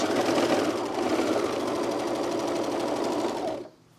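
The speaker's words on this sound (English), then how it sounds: "My overlocking is about 1/4 of an inch wide, so I'm just going to trim a little bit off." An overlocker runs steadily for several seconds, sewing and trimming a fabric seam allowance with a fast, even mechanical whir and needle chatter, then stops abruptly.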